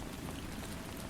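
Steady, dense rain falls without a break, a constant hiss of drops with no voices.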